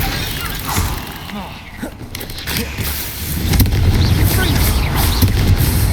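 Spell blasts fire off in Hogwarts Legacy combat, a Confringo explosion among them, with booming impacts and crackling bursts that swell louder in the second half over a dense, busy game soundscape.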